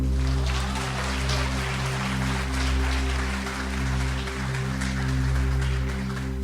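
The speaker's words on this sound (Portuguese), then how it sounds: "Um aplaude ao Senhor." A church congregation applauds at a preaching service, a dense, continuous clapping that holds steady and loud throughout over a low, sustained musical drone, with no one speaking.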